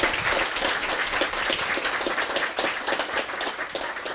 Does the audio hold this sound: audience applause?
yes